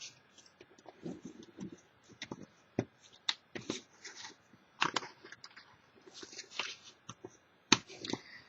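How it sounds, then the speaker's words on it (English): Paper creased and folded with a bone folder, with soft intermittent crisp swipes, taps and rustles at close range, quiet and irregular. "you're just going to fold them over, and I use my bone folder"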